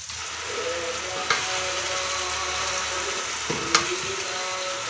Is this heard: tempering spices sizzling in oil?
yes